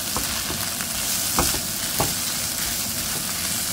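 Fish dropped into hot oil for a Sylheti mustard green vhorta fries with a steady, close, dense sizzle, broken by a couple of sharp spitting pops, with no talking.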